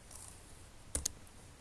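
A computer mouse clicks twice in quick succession while working in QGIS mapping software, short sharp taps over a faint steady background hum.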